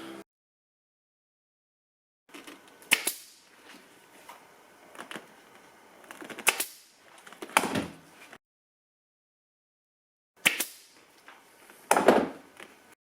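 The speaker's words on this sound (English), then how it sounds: "I'm going to get some longer staples in the staple gun." A staple gun fires into a motorcycle seat cover during upholstery work, giving several sharp, loud snaps spaced seconds apart with rustling handling noise between them and silent gaps; no one talks.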